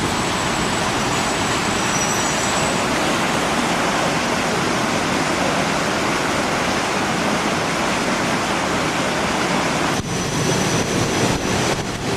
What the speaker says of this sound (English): Hope that's not a waterfall. It's a river.